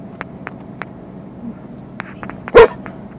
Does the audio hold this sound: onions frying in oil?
no